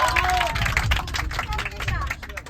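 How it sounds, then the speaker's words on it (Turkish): A small group claps and cheers for a bus driver during a trip in Izmir, a short lively burst of clapping with voices chattering and calling out over it. "Şoför abiye kocaman bir alkış"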